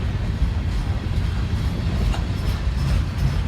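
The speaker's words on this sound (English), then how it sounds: "here comes a Southern Pacific boxcar" A Southern Pacific freight boxcar rumbles past close by, a continuous heavy roar of wheels on rails with faint rhythmic clacking and metallic squeal.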